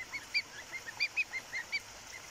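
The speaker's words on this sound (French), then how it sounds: "Ils se font la conversation, ça discute beaucoup les oies." Young goslings calling to one another in short, high peeping bursts, about a dozen quick chirps in irregular rhythm, close and fairly faint against quiet surroundings.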